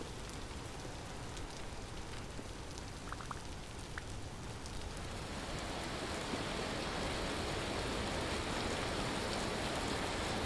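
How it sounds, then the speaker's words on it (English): Hail falls in windy weather in the video game Vintage Story, a dense, steady pelting hiss that grows slightly heavier partway through, with no voices. "That's windy. Is that hail? Oh my. It's literally hail."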